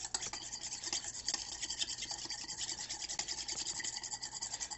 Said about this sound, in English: So you just want to mix this all together.